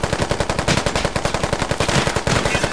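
Sustained automatic gunfire in the tactical military shooter game Squad, fired at the player: a rapid, evenly spaced stream of loud, close shots running without pause for nearly three seconds.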